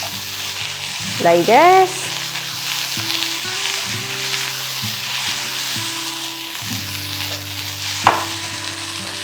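Barberries are stirred into fried onion in a pan, giving a steady frying sizzle with occasional scraping. A brief spoken phrase comes through, over background music.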